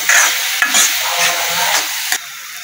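Onion sautéing in a little oil in a pan, a bright close sizzle broken by several sharp stirring scrapes, dropping to a quieter fry near the end.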